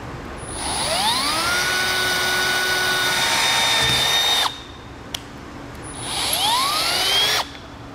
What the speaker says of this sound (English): Now we're gonna come back with the drill and drill our hole